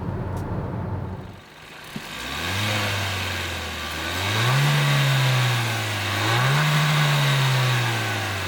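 A 2020 Kia Seltos with a 1.6-liter turbocharged gasoline engine and 7-speed dual-clutch transmission pulls away and accelerates, the engine note climbing in rising sweeps through two gear changes, steady and fairly close, with no talking.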